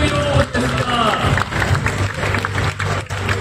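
An audience keeps up steady, dense applause as an award winner walks onto the stage at a Bandai Gunpla Builders World Cup ceremony at COEX. An announcer's voice speaks over the clapping.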